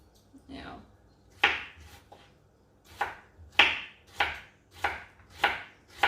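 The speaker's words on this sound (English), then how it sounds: "I'm going to cut off a small portion and just chop it finely" A knife chops halloumi finely on a board in a home kitchen, about eight or nine crisp, uneven strokes close by with short pauses between them and no talking over them.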